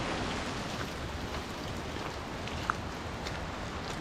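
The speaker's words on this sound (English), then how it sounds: "you might hear the rain on the trees" Steady rain falling on trees in a wooded nature reserve on a wet day, an even hiss of patter throughout with one brief sharper drop near the end, no voices.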